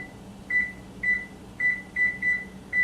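Kitchen timer beeps repeatedly while being set, a series of short, clear high-pitched electronic beeps spaced roughly half a second apart over a low background hum.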